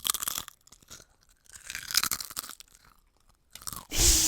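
Crunching and chewing of Utz potato chips, with a series of close, crisp bites and mouth crunches in irregular bursts, then a louder, sustained crunch at the end.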